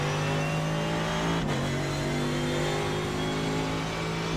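A loud GT3 race car engine in the iRacing video game at Monza holds a steady, high droning pitch, dipping briefly midway before climbing back, with no one speaking.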